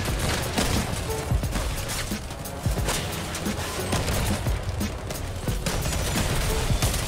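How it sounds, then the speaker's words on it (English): Gunfire in the Crossout vehicle combat video game, dense rapid bursts of shots and impacts crackling continuously at close range with a few sharper hits. "I hear shooting"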